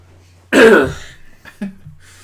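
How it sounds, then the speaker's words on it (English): A single harsh cough bursts out, followed after a short pause by a quieter second cough or throat-clear, close to the listener. "now I just can't stop coughing"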